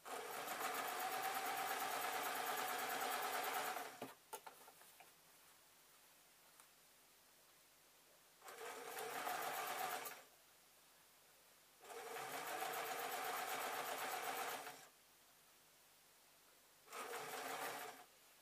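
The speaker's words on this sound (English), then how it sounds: "you can hear the machine going over lots of layers now" A sewing machine stitches through many thick fabric layers in four bursts, whirring loudly with a fast buzzing rattle, separated by quiet pauses.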